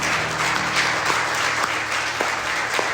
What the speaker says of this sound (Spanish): Entonces démosle un aplauso al Señor.